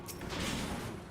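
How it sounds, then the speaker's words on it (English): Explosions in Final Fantasy XIV ring out as a dense, noisy burst of blasts over about a second, loud and close, with faint voices mixed in underneath. "They all exploded."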